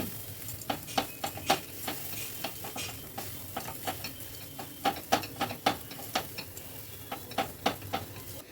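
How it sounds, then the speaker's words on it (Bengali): A spoon scrapes and taps steadily in a pan, stirring spices and chilli powder into mashed green peas, a quick irregular rhythm of small clicks and scrapes with a faint sizzle underneath, no voices. "এবার সব কিছু ভালো করে মিশিয়ে নিচ্ছি।"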